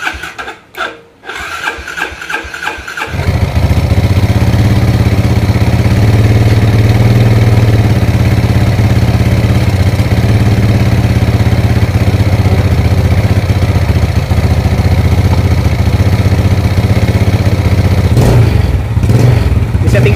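Yamaha Jupiter Z–type underbone motorcycle engine after a piston replacement, kicked into life with a few rough clattering bursts and then idling steadily and loudly close by, with a brief revving change near the end.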